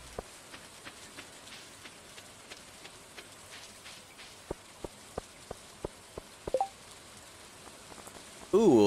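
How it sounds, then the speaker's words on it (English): Rain falls steadily in the farming video game Stardew Valley as a soft, even hiss, with small sharp ticks dotted through it and a short tonal game chime at the end. "And plus, it was also raining"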